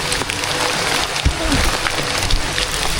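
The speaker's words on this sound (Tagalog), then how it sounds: "Kami po yung naabutan na ng ulan." Steady hiss of rain falling at a fish pond, with a few brief knocks and splashes mixed in.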